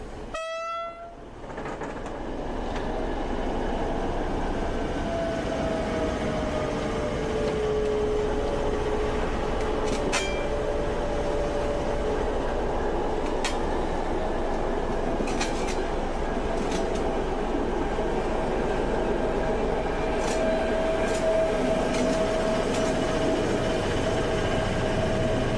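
A V300 diesel locomotive on the Wismut railway rumbles past loudly and steadily for a long stretch, with a horn blast at the start, a droning engine tone and occasional wheel clanks.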